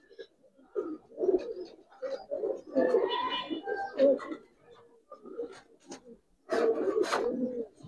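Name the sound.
pigeons cooing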